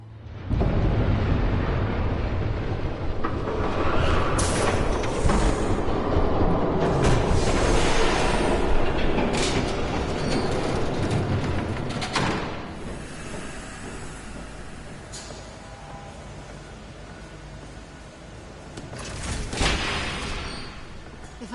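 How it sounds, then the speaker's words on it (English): A train in a Batman video game rumbles past with a long, loud, rushing roar, hissing bursts and clanking swells over about twenty seconds. "There's a train coming."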